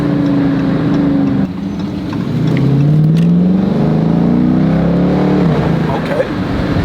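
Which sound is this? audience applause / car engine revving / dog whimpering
car engine revving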